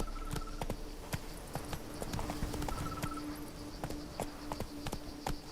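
Horse hooves in The Witcher 3 video game, a steady rhythmic clip-clop of trotting over a constant ambient bed, close and clear, with no talking.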